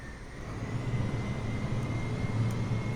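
Reverse thrust roar of an Air China Boeing 767-400 landing in Microsoft Flight Simulator, a steady loud low rumble of jet engines with a faint whine, sustained without pause and with no voices.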